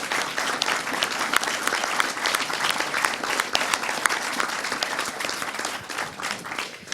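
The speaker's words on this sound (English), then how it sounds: "would you please rise so we can clap for you for coming from another country, from far away?" At the opening of the 2019 Summer National Convention, a large audience claps steadily for attendees from abroad. The applause is full and even, then thins slightly near the end.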